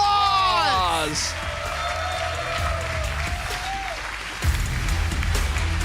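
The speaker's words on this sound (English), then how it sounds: "Give yourselves a round of applause." A crowd applauds and cheers at a Marvel Contest of Champions esports finals event, clapping sustained under an amplified voice speaking over it, with a brief sharp bump near the end.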